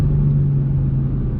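A 2018 BMW M2 engine holds a steady, loud droning note, heard close and alone without talk.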